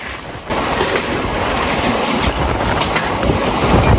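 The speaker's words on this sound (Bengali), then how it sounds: "ট্রেনের বগিটা এত ঝাঁকানে দিচ্ছে মানে হচ্ছে লাইন থেকে এখনই পড়ে যাবে" The last carriage of a passenger train rattles and shakes hard on the tracks, a loud, dense continuous roar with clattering wheel noise and a faint high squeal near the end.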